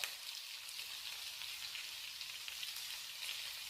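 Mutton seekh kebabs frying in a pan over medium to low heat, a soft, continuous crackling sizzle, faint and even throughout, with no talking.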